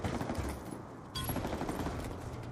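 Sniper and other gunfire in a competitive video game match, sounding as loud, dense bursts of shots that continue steadily through the clip with a brief dip midway.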